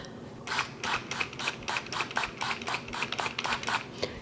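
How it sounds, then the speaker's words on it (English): A spray bottle pumps water onto rosemary seedlings in quick, regular bursts, about a dozen short hissing sprays in a row, close by with no talking. "I'm going to give a little spray from the top."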